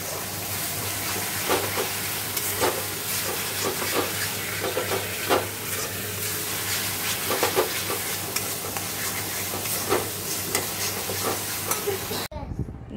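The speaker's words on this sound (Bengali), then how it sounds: "দেখো মাছটা ভাজা হচ্ছে" Fish fries in a pan with spices, a steady close sizzle running throughout with scraping stirs and clinks, faint speech in the background, before it cuts off abruptly at the end.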